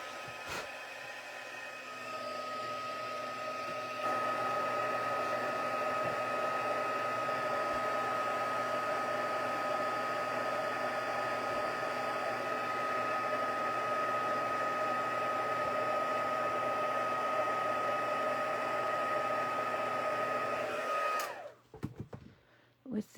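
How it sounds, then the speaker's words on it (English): A heat tool blows steadily at close range for about twenty seconds, heat-setting hybrid ink on stamped paper, a constant whirring hiss that steps up slightly early on and clicks off near the end. "With the heat tool."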